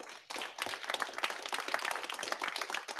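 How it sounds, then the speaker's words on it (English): An audience gives a round of applause for a guest presenter after his talk, many hands clapping in a steady, moderately distant patter that starts after a brief pause and carries on evenly. "let's give Ryan a round of applause"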